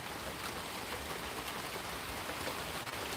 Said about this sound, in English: it's raining like a son of a gun out here right now. Raining like crazy.